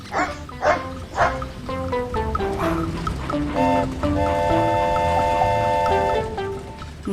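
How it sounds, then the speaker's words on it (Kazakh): A dog barks several times in a quick, yappy series, loud and close, the barks blending into a sustained whine or howl toward the end. "Ит."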